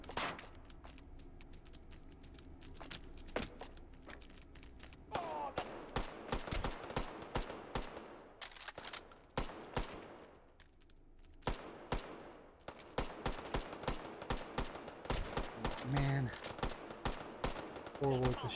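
Old west guns firing in the VR game Hot Dogs, Horseshoes & Hand Grenades: repeated sharp gunshots in quick bursts with short gaps between volleys, fairly close, some mechanical clicks of handling in between.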